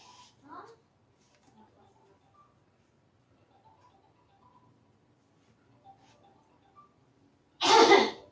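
A single sharp, loud sneeze bursts out near the end after long quiet, with faint indoor noises and a brief earlier sound before it.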